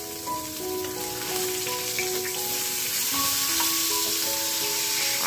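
Sizzling in a pan while katla fish curry cooks with ginger and cumin paste, a steady close crackle that keeps going under faint ringing tones.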